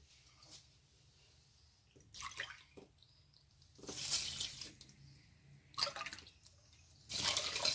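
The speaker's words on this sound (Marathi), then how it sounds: "2 ते 3 कप पाणी टाकणार आहोत" Two to three cups of water are poured into a pot of sugar to make syrup for khoa gulab jamun. Several faint splashing pours come in separate bursts against a quiet background.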